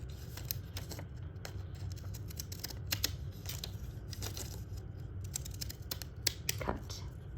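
Scissors snipping through paper during a kindergarten-to-second-grade art lesson making a Mexican rug, with repeated short crisp cuts and rustling scraps over a steady low background hum.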